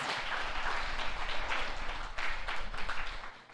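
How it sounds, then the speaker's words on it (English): An audience at a school morning assembly gives a round of applause, with dense, fairly distant clapping that holds steady and then tapers off at the end. "give Mr. Miyazaki another round of applause"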